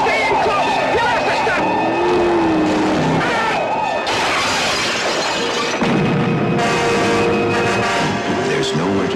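A car engine in a video game roars loudly and continuously, with siren-like wailing tones and crashing effects over it.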